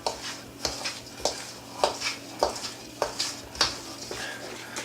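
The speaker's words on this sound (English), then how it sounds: "We're just going to mix it so there's no lumps." A whisk or spoon stirs dry chowder ingredients in a bowl, making rhythmic scraping strokes about every half second, close and fairly loud with no voices.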